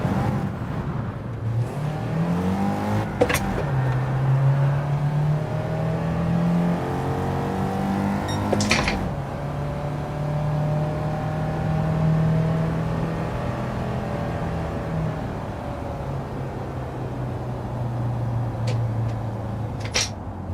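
Race car engines in the Gran Turismo 7 video game drone steadily, rising and falling as cars accelerate and shift, with a few sharp bangs and whooshes from nearby cars over the ongoing engine note.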